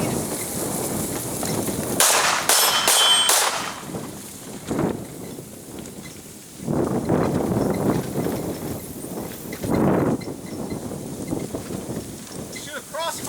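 Several sharp gunshots crack out at a target, fired from a golf cart outdoors. A quick cluster of shots is followed by a few spaced single shots over rumbling wind and movement noise.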